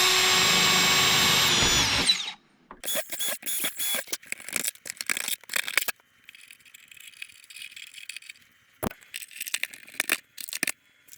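A power driver whirs steadily for about two seconds while driving screws into the firewall of a Seagull Models Gilmore Red Lion model airplane, then stops, followed by a string of close clicks, rattles and handling knocks.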